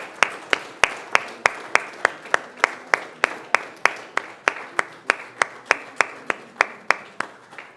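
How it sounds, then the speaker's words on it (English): One person claps alone at a city council meeting, slow and evenly paced, each sharp clap ringing out clearly in a quiet room with nobody speaking. "And I think Officer Tuttle and Xander deserve a round of applause."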